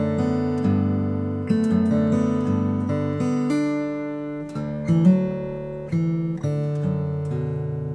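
Fingerstyle acoustic guitar plays a repeating section of the Irish tune Raglan Road, with a steady bass line under sustained melody notes and plucked chords, close and clear with no talking.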